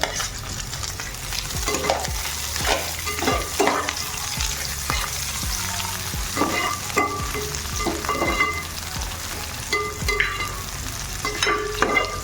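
Three green chillies go into a pan of softened onion and fry with a lively crackling sizzle, punctuated by repeated scraping stirs of a spatula, close and steady throughout with no speech.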